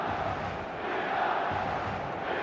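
A stadium crowd murmurs with expectant buzz in the eFootball 2026 video game, a broad continuous roar of many voices, steady and fairly loud with no single voice standing out.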